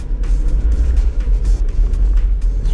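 A race car's engine at Thruxton circuit, heard close and loud as a steady, throaty rumble with small surges in level throughout.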